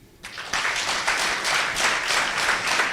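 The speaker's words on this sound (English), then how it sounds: "could you please join me again and give a big applause to him?" A crowd claps and applauds steadily at a certificate awarding ceremony in Rwanda, a dense wash of clapping that swells after a brief quiet start.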